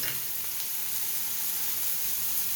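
Egg and tomato frying in a pan for a spiced egg dish, a steady close sizzle with hissing steam and no voices.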